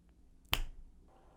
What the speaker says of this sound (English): I'm just gonna snap my fingers